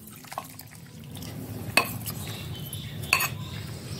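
A spoon stirs lemon juice into a peepal churan mixture, giving a couple of sharp metallic clinks against the container over soft scraping and low background noise.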